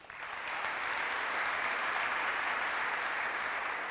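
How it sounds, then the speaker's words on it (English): A large audience at a swearing-in ceremony for a state chief justice bursts into sustained applause. It builds within half a second and holds as a dense, even wash of clapping with no voices. "I know you're tired of clapping"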